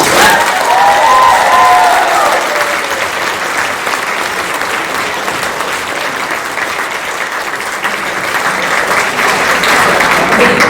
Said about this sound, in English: Please, a round of applause for our contestants.